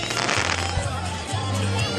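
Fireworks display at Great Yarmouth, crackling bursts and rumbling booms continuing steadily through the clip with a crowd murmuring and music faintly underneath.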